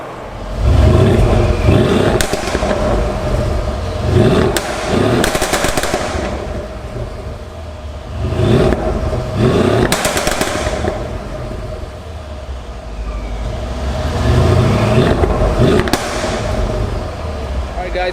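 A Mercedes ML63 AMG's exhaust pops and crackles in sharp, rapid bursts between throttle blips, with revving swells and burbling, the loud clusters of bangs recurring every few seconds with quieter stretches between.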